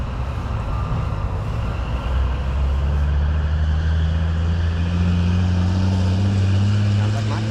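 A truck engine running roughly on a road outside a forge, a loud steady low rumble whose pitch slowly rises as it revs, with voices talking over it.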